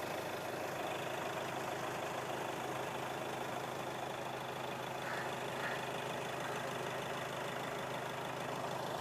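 A 2016 Hyundai Elantra S with a 1.6 diesel engine idles in a steady, even low rumble, faint and continuous, with faint talk underneath.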